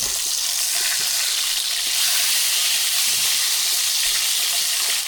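Eggs frying in a pan with pepper on them, a steady close crackling sizzle with a broad hiss running alone and unbroken throughout.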